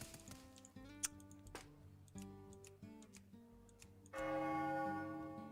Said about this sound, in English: If you click right here, you get that church bell sound.